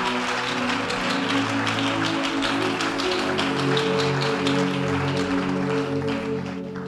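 A church congregation at an evening prophetic gathering applauds loudly and steadily throughout, with a sustained droning musical chord held underneath the clapping.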